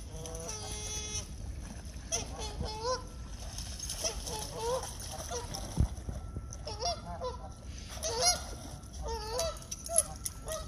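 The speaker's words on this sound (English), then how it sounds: "That's Ricky and Lucy, our resident geese." Geese honk repeatedly in bursts over a steady outdoor background, with splashing water and people talking now and then.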